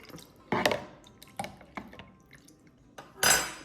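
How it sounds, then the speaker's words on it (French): A metal spoon stirs homemade window-cleaning liquid, half lemongrass-scented, in a container, giving several separate clinks and scrapes against the sides with quiet gaps between them and a louder clatter at the end. "Je vais prendre une cuillère pour tout mélanger."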